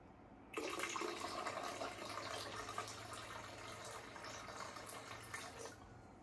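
Liquid pours steadily into a drink for several seconds, a continuous close splashing that starts abruptly and then fades out.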